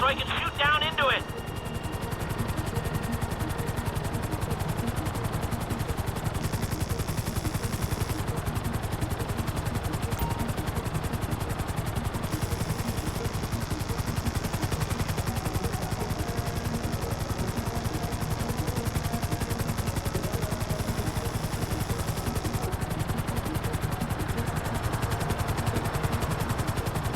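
A helicopter hovers in GTA 5 with a steady, loud rotor and engine drone that lasts the whole time, and scattered gunfire sits under it after an abrupt tonal burst at the very start.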